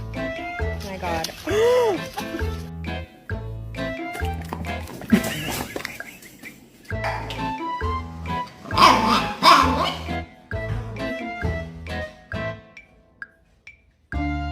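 A puppy gives short yips and high whining barks in bursts, close by, broken up by people talking and cooing over it.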